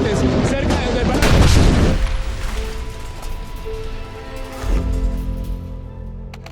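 Two deep, loud booms roughly three seconds apart from rockets fired by Bronco attack aircraft, each rolling into a rumbling decay, with a faint hum and background noise between.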